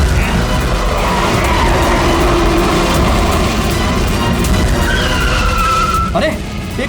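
Car tires skid and squeal loudly during a chase, with a rough engine roar and road noise underneath, then sharp rising squeals near the end before the noise eases slightly.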